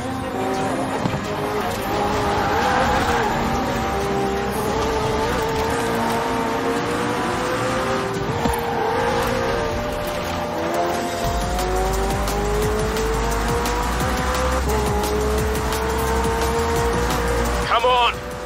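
Engine noise from a car racing in the Forza Horizon 4 video game, droning loud and steady with rising revs and a brief tire squeal, running under in-game dialogue.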